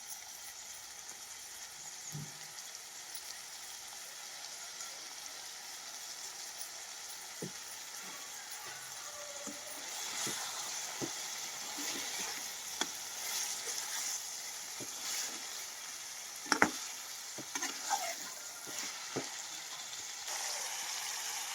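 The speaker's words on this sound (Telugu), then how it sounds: "నానబెట్టుకున్న పప్పు కూడా వేసుకుంటున్నాను" Soaked lentils hit a frying pan of cauliflower curry, giving a soft, steady sizzle with watery hissing and scattered small clicks and scrapes from stirring, fairly quiet and close, with no talk.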